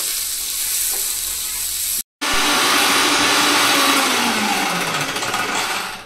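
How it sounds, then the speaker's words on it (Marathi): A kitchen mixer grinder whirs loudly and continuously as it grinds roasted coconut, sesame seeds and garlic, with a brief cut partway through before the steady grinding resumes close up. "भाजलेलं खोबरं, भाजलेले तीळ आणि भाजलेलं लसूण हे सगळं बारीक करून घ्यायचंय"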